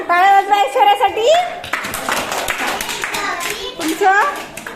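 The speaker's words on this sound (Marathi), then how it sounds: "टाळ्या वाजवा ऐश्वर्यासाठी" Children clap for a classmate, Aishwarya, in a classroom maths activity, a short burst of close hand claps in the middle stretch, with a child's and an adult's voice talking before and after.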